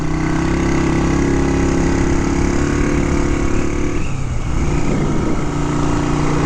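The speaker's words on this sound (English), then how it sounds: "Little 150cc thumper, cruises right along." A 1959 MV Agusta 150RS Rapido Sport with a 150cc single-cylinder engine runs steadily at a cruising pace, a loud continuous thumping drone with a slight shift in tone partway through, no voices.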